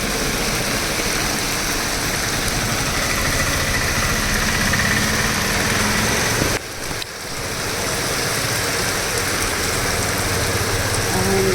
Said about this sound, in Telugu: ఎంత పెద్ద వర్షం చూడండి